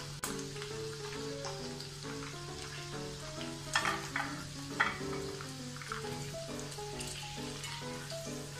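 Sweet corn for masala corn frying in oil, a dense, constant bubbling sizzle heard close with a steady hum underneath and a couple of brief clatters, no voices.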